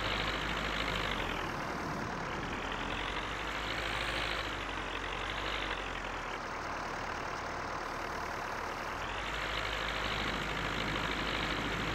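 A John Deere tractor engine idles steadily in Farming Simulator 19, a continuous broadband rumble with no talk over it.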